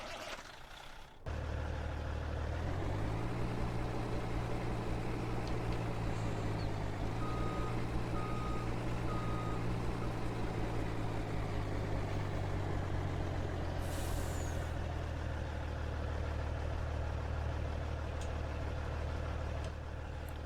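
Reversing beeps from a truck in Farming Simulator 19, heard as a short series of evenly spaced beeps over a steady low engine drone, with an air brake hiss near the end.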